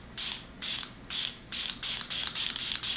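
Catrice Prime and Fine Dewy Glow fixing spray misted from a pump bottle: seven quick, airy hissing spritzes in a steady rhythm, close and alone.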